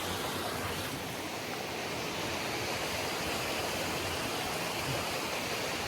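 A waterfall on the Pacific Crest Trail pours in a steady, even rush of falling water, moderately loud and constant throughout, with no voices.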